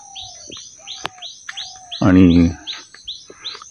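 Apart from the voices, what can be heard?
birds chirping in the village morning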